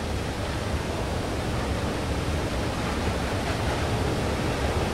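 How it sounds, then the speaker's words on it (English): Water waves in the video game Limbo make a loud, steady, unbroken rushing wash like surf or a waterfall, with no talk. "Oh, there's a lot of water there."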